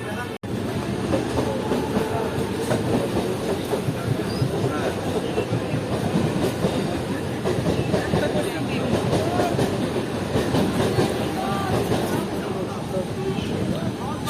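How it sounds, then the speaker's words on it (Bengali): A local train runs into platform 2 of Dum Dum station with a loud, continuous rumble of wheels and carriages that stays steady for the whole stretch, close and enveloping from on board. "সো বন্ধুরা, আমাদের ট্রেন চলে এলো দমদম স্টেশনের এখানে, প্ল্যাটফর্ম নম্বর 2-এ ঢুকেছে দমদম স্টেশনের।"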